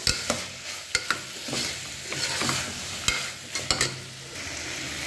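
Vegetables with turmeric powder fried in a pan for a dinner dish, heard as a continuous close sizzle broken by repeated sharp scrapes and knocks of the stirring spoon against the pan, with no voices.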